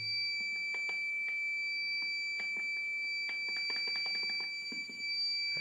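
A faulty DeLonghi ICM14011 coffee machine gives a continuous high-pitched electronic beep tone, sounding steadily, with faint clicks and rustles underneath.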